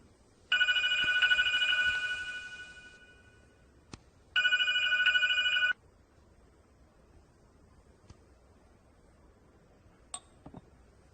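A telephone rings in two bursts with a pause between, bright electronic trilling, followed by quiet room tone and a couple of faint clicks.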